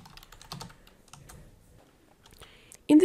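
Quick bursts of typing on a computer keyboard, clicking keys in short irregular runs, close and fairly quiet, ending with a louder thump.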